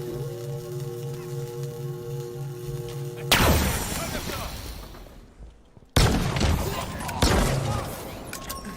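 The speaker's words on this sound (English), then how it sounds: "I hate shooting this gun from the hip." Weapon fire in the video game Halo Infinite: after a steady humming background, loud bursts of rapid gunshots with ringing tails break out, pause briefly, then resume in sharp volleys.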